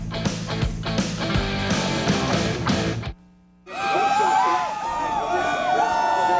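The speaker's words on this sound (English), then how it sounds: "an enthusiastic crowd watching the TransSouth Financial 400" Crowd noise at the 1995 NASCAR TranSouth Financial 400 at Darlington Raceway: a dense, loud wash of cheering and roaring that breaks off briefly, then returns with a rising and falling siren-like whine.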